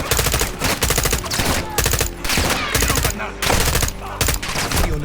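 Rapid bursts of gunfire from the Modern Warfare 2 Remake video game, loud and dense automatic volleys with short gaps between them.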